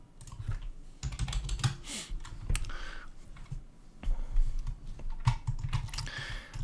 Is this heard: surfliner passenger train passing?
no